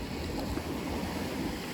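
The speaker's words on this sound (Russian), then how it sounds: "Шумом прибоя" Calm sea surf washing over a pebble beach in Crimea, a steady soft rush and hiss of water close by, with no talking over it.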